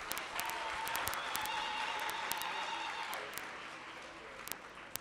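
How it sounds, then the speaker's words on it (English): Audience applause at a community college infrastructure programme launch, a fairly quiet, steady wash of clapping with a few sharper close claps standing out and thinning toward the end. "Give them a round of applause again."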